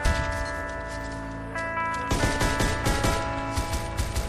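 Video game gunfire crackles in rapid bursts, dense clusters of shots starting midway and continuing in quick repeated volleys over a steady game background.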